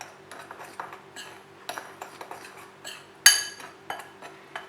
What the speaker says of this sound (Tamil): இது எல்லாத்தையும் நல்லா கலந்து விட்டுக்கிறேன்